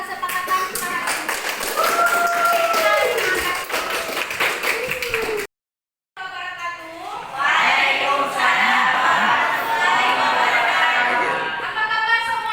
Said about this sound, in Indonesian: Mari tepuk tangan untuk kelas kesepakatan kita hari ini.